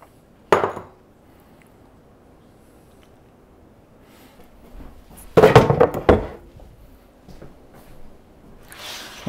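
Mashed potatoes, gluten-free flour and aquafaba tipped into a mixing bowl, giving a soft thunk near the start and a louder cluster of thuds and scraping clatter against the bowl later, alone with no talk.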